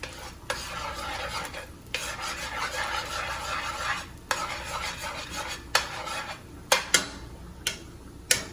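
Eggs and beans being pushed around a hot pan with a utensil make continuous close scraping and rasping over a bed of sizzle, broken by short pauses and a few sharp taps near the end.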